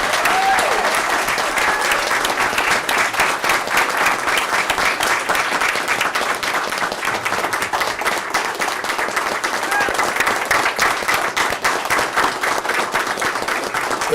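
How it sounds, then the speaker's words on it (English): An audience at a school board meeting breaks into sustained applause, many hands clapping densely and evenly for the whole stretch without pause. "let's give them a big round of applause"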